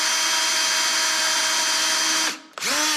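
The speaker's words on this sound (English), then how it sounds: "We're going to put a screw on the outer hole." A power drill drives a screw into a threaded metal tenon hole, a steady close high-pitched whir for over two seconds that winds down, pauses briefly, then spins up again in a short final burst.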